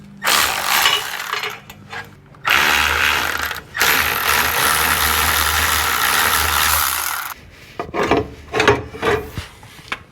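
Power tool spinning out 14 mm starter bolts on an '84 Buick Regal with an SBC 350, loud sustained whirring and rattling bursts separated by short pauses, then choppy intermittent bursts near the end.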